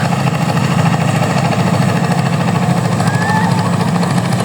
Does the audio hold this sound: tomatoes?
no